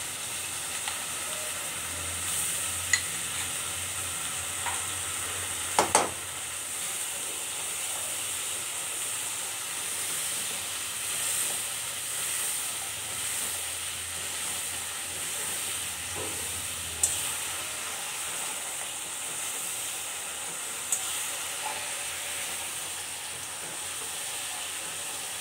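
Masala with three spoons of tomato paste fries in a pan for paneer curry, a steady soft sizzle and hiss with a few faint clicks of a utensil, no voices.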